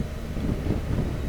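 Wind blows outdoors in a mountain valley, a steady, low, rough rumble buffeting the microphone with no voices.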